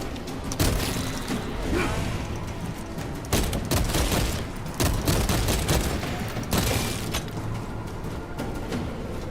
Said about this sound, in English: Need to get out of the gunshots.